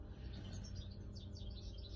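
A small bird, held in hand for a feather DNA sample, gives a dense run of high, thin chirps and tweets, faint and close, over a steady low hum with no talking.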